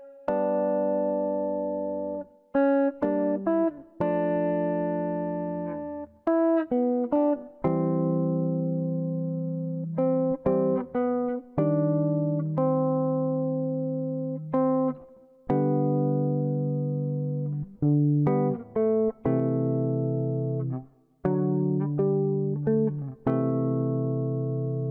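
A guitar strung with flatwound strings plays a basic arrangement, a steady run of clean plucked notes and chords with warm, rounded tone, each note ringing briefly before the next, loud and close with no talking.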